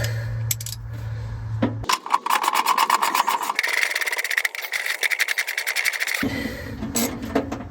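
A riv nut installer tool being backed out of a freshly set rivet nut for a VW coil mount, making rapid, close mechanical ratcheting clicks in loud bursts that shift in pitch, with no voices.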